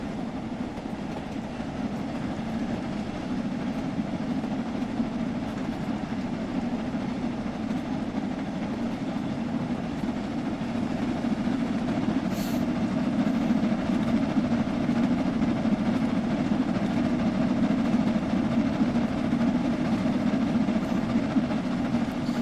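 A steam-era train in Train Sim World 5 rumbles along the rails in a steady, continuous drone with a faint rhythmic clatter, heard alone without talk.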